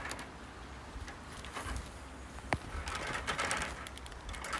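A pet bird calls close by, with soft chirps and a sharp, brief squeak over a rustling, murmuring room background.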